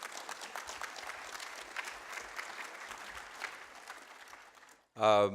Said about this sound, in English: big round of applause for the Israelis and Lebanese